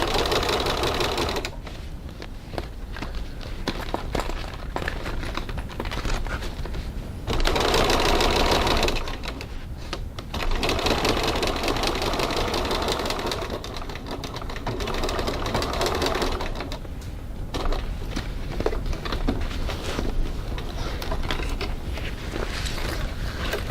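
Home sewing machine running in long bursts of rapid needle stitching, with short pauses between runs and a few quieter mechanical clicks, loud and close with no voice over it.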